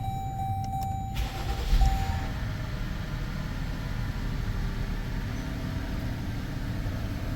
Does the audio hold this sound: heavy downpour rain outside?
no